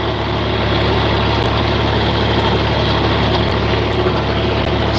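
A 1967 John Deere 4020 tractor with its original engine runs steadily nearby, a loud, continuous low diesel rumble with a constant droning throb and no voices.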